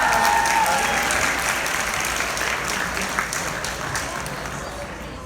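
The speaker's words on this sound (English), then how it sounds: "let's give another round of applause." A round of applause fills the room at a school sports banquet, many hands clapping together in a steady, full roar that begins loud and slowly tapers over several seconds, with no voices on top.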